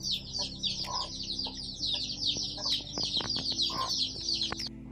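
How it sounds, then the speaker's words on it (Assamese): Chickens and chicks in a home yard, with many small high chirps and peeps running continuously alongside a few low clucks, fairly distant and steady. "ইয়াত প্ৰায় মুৰ্গীৰ পোৱালি 40টামান আছে, দুটা মাইকীৰ পোৱালি।"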